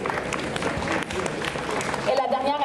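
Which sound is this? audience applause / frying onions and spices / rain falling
audience applause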